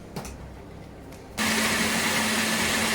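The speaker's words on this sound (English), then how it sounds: "I'm already putting the tomatoes in the blender to blend it." A kitchen blender kicks on abruptly after a second of quiet room noise and then whirs loud and steady, blending tomatoes with onion, chili pepper and ginger for a Nigerian jollof rice sauce.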